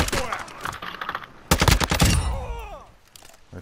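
Automatic gunfire in the video game Call of Duty: Modern Warfare II, rapid bursts of shots in two clusters, loud and close, with a voice briefly audible among the rattling fire.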